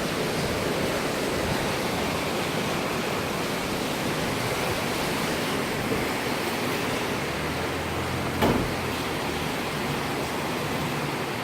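A rushing river beside a hotel balcony in Gatlinburg, Tennessee, roars as a steady broadband wash in the rain, loud and unbroken, with one brief knock near the end.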